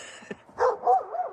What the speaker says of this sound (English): And my dog's having fun barking at the neighbors.